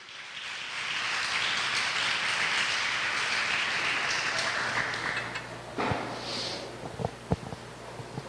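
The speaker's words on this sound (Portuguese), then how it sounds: "Dá um aplauso ao Senhor Jesus aí nessa noite" Church congregation applauds in a broad wash of clapping that builds over a few seconds, holds, then fades away, leaving scattered knocks and a low hum.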